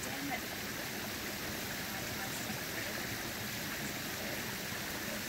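A trail stream at a water crossing along the Appalachian Trail in Virginia, a steady broadband rush of flowing water, close and constant, with no break for the whole stretch.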